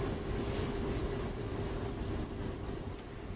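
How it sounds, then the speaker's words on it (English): Alleged sonic weapon recorded in Havana, Cuba: a piercing, steady high-pitched electronic whine over a low noisy rumble, loud and continuous throughout. "an audio recording of what's believed to be a sonic weapon used on American embassy"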